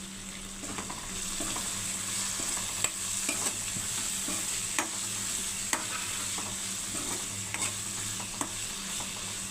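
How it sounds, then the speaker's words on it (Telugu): Raw mango pieces frying in a pan sizzle steadily and close by for several seconds, with occasional stirring ticks, with no voices heard. "కొంచెం మామిడికాయ ముక్కలు వేగితే"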